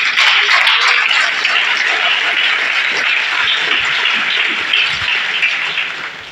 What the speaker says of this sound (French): On peut acclamer pour le Seigneur.